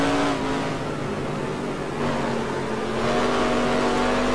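Race car engine in the Stunt Trak racing video game, revving steadily with a sustained tonal drone that dips briefly mid-clip and then climbs again, loud and continuous with no talk.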